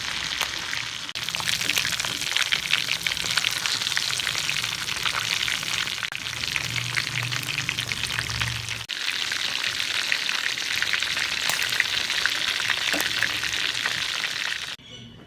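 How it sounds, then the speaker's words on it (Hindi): Chicken leg pieces fry in hot oil, giving a dense, continuous crackling sizzle at a steady moderate level that runs almost the whole time before cutting off near the end. "अब ये सारे लेग पीस जो हैं ये फ्राई हो गए।"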